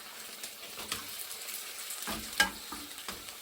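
Dried wild vegetables stir-fried with tofu and Japanese seasoning, a soft sizzle with scattered scraping stirs and one sharper utensil clack near the end, fairly quiet and close.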